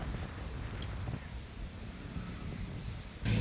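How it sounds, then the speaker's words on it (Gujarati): Strong storm wind buffets the microphone with constant low rumbling gusts, and a louder blast comes near the end. "મસ્ત પવન આવે છે, એક નંબર."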